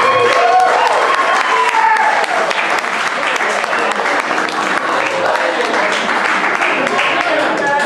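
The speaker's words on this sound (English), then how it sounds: "we should give a round of applause to the people who organized this tonight" Audience at an evening talk applauds the organizers, a loud, sustained round of clapping with some voices and cheering mixed underneath.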